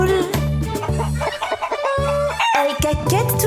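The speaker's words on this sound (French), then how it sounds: "Elles caquettent toute la journée dans la drôle de ferme de Papy Henri." Chickens on a playful farm cluck and crow in a lively, rhythmic burst of short calls set against children's song music, loud and close throughout.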